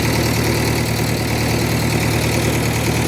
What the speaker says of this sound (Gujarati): માટું ભરાવાનું ચાલુ છે તો જેસીબી આ રહ્યું